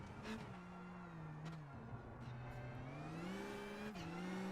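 A rally car driving through the Karoutes stage of the Acropolis Rally Greece 2023, its engine droning and shifting pitch with gear changes and revving as it passes at a moderate distance.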